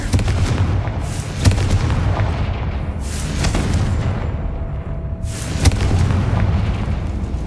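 The Confringo blasting spell in the Hogwarts Legacy video game sets off heavy booming explosions, with several loud blasts over a continuous rumbling roar.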